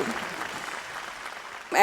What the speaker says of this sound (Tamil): ஒரு மிகப்பெரிய கைத்தட்டல் கொடுக்கலாம்